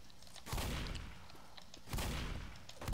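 Gunfire in the zombie shooter Left 4 Dead, in the sewer stage of the No Mercy campaign: loud, booming bursts of shots at a steady pace, about three volleys, each fading into a rumbling tail, with no talking.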